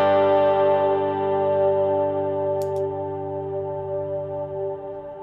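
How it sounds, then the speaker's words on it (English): An electric guitar chord through a reverse delay pedal, its repeats swelling and washing in a dense, distorted, chorus-like sustain that fades slowly, loud and alone. "reverse delay that I can use. And it'll keep repeating like that."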